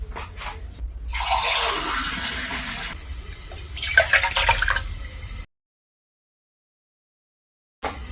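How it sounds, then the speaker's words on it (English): Tap water splashes into a cooking pot for soap making, a close, gushing pour lasting a few seconds, broken by a short pause and a second burst, then silence. "I have my pot here. I'm just going to go ahead and add water."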